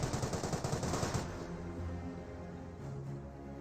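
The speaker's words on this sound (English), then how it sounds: "Couple models are firing. Looks like a bolt action and a semi." Bolt-action and semi-automatic rifles fire in a Company of Heroes battle: a rapid, loud run of shots for about a second, then a steadier rumble of combat noise with no voices.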